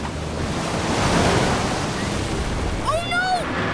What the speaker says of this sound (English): The waves are getting closer.